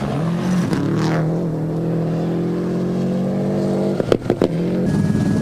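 The Toyota Celica of Didier Auriol races through a stage of the 1994 Rally of New Zealand, its engine droning steadily at high revs before a burst of sharp gear-change crackles near the end.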